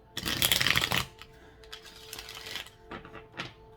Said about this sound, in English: I'm going to do just a little light shuffle there, and I'm going to do a hard shuffle